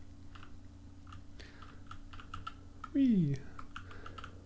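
Arrow keys tapped on a computer keyboard while moving a paddle in a p5.js Breakout game, giving a run of light, quick clicks spread through the clip, with a brief voiced exclamation partway through.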